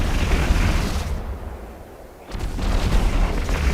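Spaceship weapons open fire in the space game Eve Online, a sustained booming barrage of heavy blasts that drops off briefly mid-clip before resuming loud and dense.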